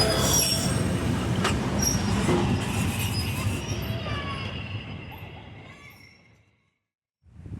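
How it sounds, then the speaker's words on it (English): A train rolls past loudly near a rural road in the White Mountains of New Hampshire, wheels squealing and rumbling steadily before fading away into brief silence. "Oh look, there's a train."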